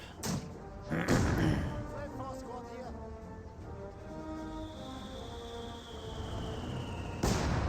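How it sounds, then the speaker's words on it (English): 81mm mortars fire in a Company of Heroes 2 battle, heavy thumps landing near the start and again at the end, with ongoing battlefield noise and a commentator speaking over it. "81mm mortars engaging the Pioneer to get some damage."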